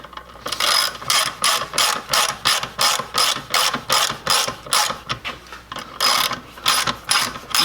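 A ratchet clicks in rapid, steady bursts while driving self-tapping screws into a Jeep mirror mount, each stroke a loud close run of pawl clicks with brief pauses between, heard alone without talk.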